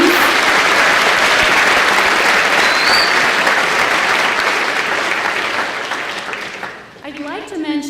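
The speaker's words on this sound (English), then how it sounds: "Let's give Ms. Johnson one big round of applause" Audience applauding at a high school language department awards ceremony, loud sustained clapping that fades toward the end as a voice starts speaking.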